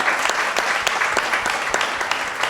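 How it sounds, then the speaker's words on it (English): An audience at an SXSW panel event applauds steadily, a dense, even wash of clapping from many hands that continues throughout. "Can we give a round of applause for atxFactory?"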